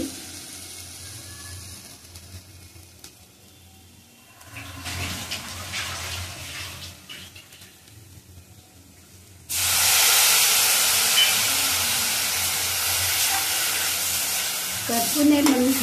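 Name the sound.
water added to sizzling satputi vegetable in pan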